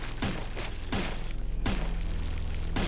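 Rapid gunfire from the video game Resident Evil 3, a dense run of sharp shots and thuds over a steady mechanical drone, fairly loud and continuous with no speech.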